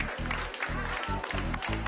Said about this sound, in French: Voilà, vous pouvez les applaudir.